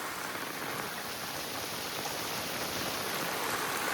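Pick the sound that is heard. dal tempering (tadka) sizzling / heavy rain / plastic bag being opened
heavy rain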